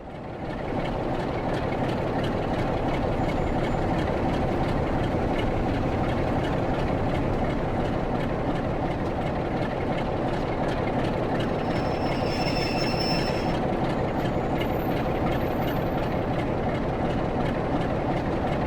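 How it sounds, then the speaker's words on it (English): Light engine locomotive rolling slowly into a station platform in the Train Sim World game on the Blackpool branches: a steady, loud rail rumble with wheel clatter and a brief high squeal of wheels partway through, no voices. "light engine movements coming in to come onto their set sitting in the platform"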